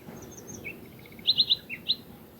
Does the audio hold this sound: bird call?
yes